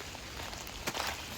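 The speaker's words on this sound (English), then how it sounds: "Rain finally hit." Rain falls steadily in the woods during a thunderstorm, a dense, faint hiss of drops on leaves and ground with a soft patter throughout.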